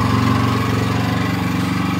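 A TOYOHAMA 7500i inverter portable generator runs steadily nearby, a loud, even engine drone with a fine rapid pulsing and no pauses.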